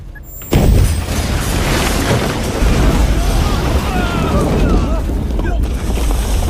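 A landmine and trap explosion in an action film thunders in as one sudden loud boom, then a sustained roaring rumble of debris and fire, with a narrator speaking over it.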